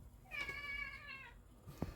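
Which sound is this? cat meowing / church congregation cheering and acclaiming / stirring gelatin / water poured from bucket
cat meowing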